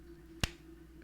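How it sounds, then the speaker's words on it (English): A single sharp hand clap snaps out close and loud, brief and alone against a quiet background hum. "I hope that clap wasn't too loud."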